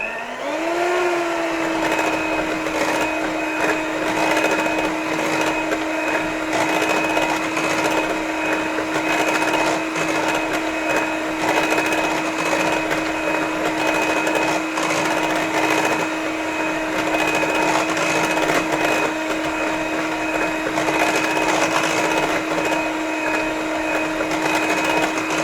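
An electric whisk runs continuously through a vegan, dairy-free chocolate torte mixture, giving a steady, loud, close motor whine with a sustained buzzing tone that barely changes over about twenty-five seconds.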